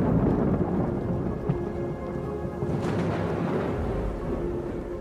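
Thunderstorm sound effect with heavy rain, a continuous loud wash of rainfall with deep, rolling thunder rumbling underneath throughout, steady and immersive with no talking.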